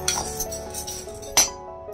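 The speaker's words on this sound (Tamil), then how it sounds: "இதையும் சேர்த்து நல்லா கோல்டன் ப்ரௌனாக வறுத்துக்கோங்க" A spoon clinks and scrapes against a pan while garlic dry-roasts without oil until golden brown, light metallic taps with one sharper clank, fairly quiet and without talk.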